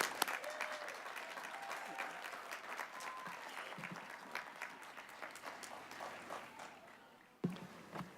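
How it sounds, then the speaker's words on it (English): A commencement audience at a College of Education ceremony applauds in a steady, full round of clapping that carries on for several seconds before cutting off abruptly near the end. "would like to give her a round of applause in her absence"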